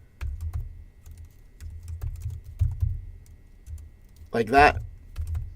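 Someone types on a computer keyboard while working in a text editor for web development, the clicks coming in short scattered bursts; a voice briefly speaks partway through.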